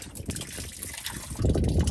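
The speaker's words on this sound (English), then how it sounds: "It's fine with the water running." Tap water runs and splashes steadily, growing louder and fuller toward the end, with no voices over it.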